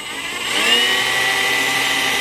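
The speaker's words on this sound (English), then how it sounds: "Here, let me get a drill. So when I turn the motor," An electric drill spins the motor of a Warn M-series winch under rebuild, a loud steady high-pitched whine that rises slightly and then holds constant, with no voices.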